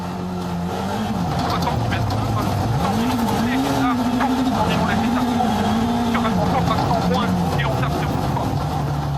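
A WRC rally car at full throttle on Stage 11 of Rally Chile 2025, its engine note swinging up and down through repeated shifts and corners, loud and continuous throughout.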